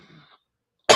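A single sharp, loud cough bursts out near the mic at the very end, after a stretch of faint low murmur and silence.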